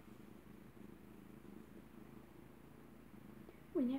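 A house cat purrs softly and steadily for several seconds, a low continuous rumble close to the microphone, ending with a brief louder sound.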